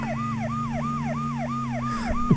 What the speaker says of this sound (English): Oh my god, look at the fire engine.